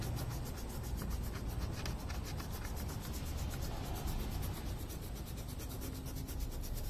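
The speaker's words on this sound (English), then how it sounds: "So you just wet the sandpaper, keep wet on that scratch, keep going, perpendicular to the scratch." Waterproof sandpaper wet sanding a scratch in a car's clearcoat, a close, steady rubbing rasp with a fast back-and-forth rhythm, continuous and fairly quiet, no voices.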